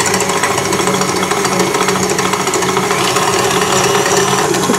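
Eggs and sugar whirl in a food processor bowl with a loud, continuous motor drone and a fast rattling buzz that holds steady throughout.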